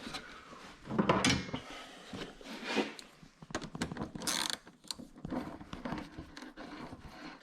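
Hose clamps being squeezed, tightened and slid into place on a Ford Taurus engine, giving close, quiet clicks, ratcheting and rubbing scrapes in uneven bursts.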